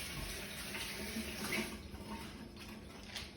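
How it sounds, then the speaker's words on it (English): Tap water runs steadily into a sink while hands are washed, giving a continuous, fairly quiet splashing hiss with small shifts as the hands move under the stream. "We're just going to quickly wash our hands."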